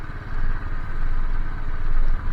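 Motorcycle engine droning steadily on a winding, hilly road ride toward Karinjeshwara, a continuous close rumble with slight wind noise and no speech.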